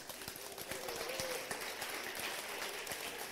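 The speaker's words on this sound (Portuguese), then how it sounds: "Que tal uma salva de palmas para os Benjamim?" A church congregation applauds in a short burst of clapping, a steady patter of many hands with faint voices mixed in.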